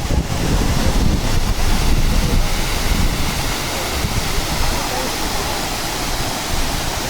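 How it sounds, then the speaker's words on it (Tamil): A waterfall in the hills near Kotagiri, Ooty, roaring as a loud, steady broadband rush of falling water close by, continuous throughout. "ஃபால்ஸ் கிட்ட வந்துட்டோம். ஃபால்ஸ் வேறு லெவலில் இருக்குது."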